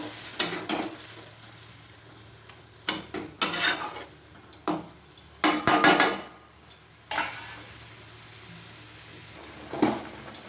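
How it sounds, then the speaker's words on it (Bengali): A spoon stirs an egg posto mixture of poppy seed paste and egg in a pan, giving several separate bursts of scraping and clattering against the metal with short pauses between strokes, close and fairly clear, with no voices. "একটু নেড়ে নিলাম।"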